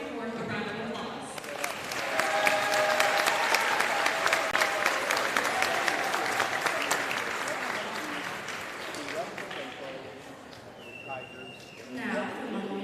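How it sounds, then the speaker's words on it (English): A gymnasium audience at a high school boys basketball game, Webb City vs Republic, applauds the 2024 courtwarming court with sustained, loud clapping and some crowd noise, fading toward the end as an announcer's voice carries over the hall. "can we give our 2024 courtwarming court a round of applause?"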